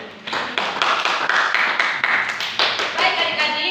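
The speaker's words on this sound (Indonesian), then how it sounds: "Tepuk tangan untuk kelompok 1." An elementary school class gives a round of applause for a student group, a short dense burst of many hands clapping close by, lasting a few seconds.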